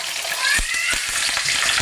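Curry leaves hit hot oil during tempering for susla, a puffed-rice dish, crackling and sizzling loudly up close with a few sharp pops and some stirring.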